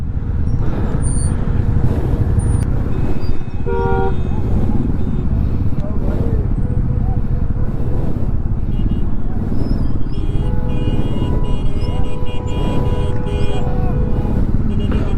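Heavy road traffic near Sonamarg on the Zojila pass: a steady, loud rumble of engines runs throughout, with a vehicle horn sounding near the four-second mark and further horn-like tones later, while a voice talks over the noise.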